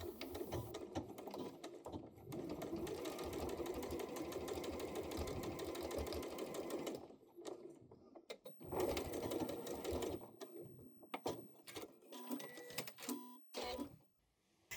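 A sewing machine topstitches a sweater neckband 0.7 cm from the edge, running in a steady, continuous drone for about seven seconds, then stopping and starting in short bursts at the end, close and loud with no talking.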